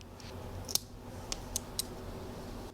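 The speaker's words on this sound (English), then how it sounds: "is the spring-loaded scissors to cut one-handed" Spring-loaded scissors on a Leatherman ARC multitool snip several times, producing sharp, crisp clicks spaced unevenly over a quiet background, close and clear.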